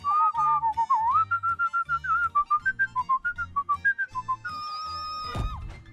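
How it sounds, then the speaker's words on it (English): A man whistles a lively, wavering melody alone, with clear repeated notes at close range that rise toward a sustained high tone before ending in a brief thump. "He can whistle."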